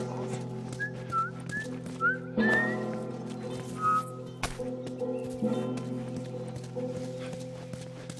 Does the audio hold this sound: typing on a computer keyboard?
no